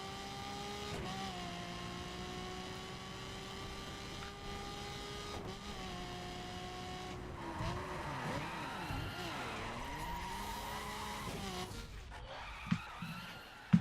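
Race car engines whine steadily in a street race in The Crew, then tires squeal and skid with shifting pitch as cars slide through turns, ending in a sharp impact.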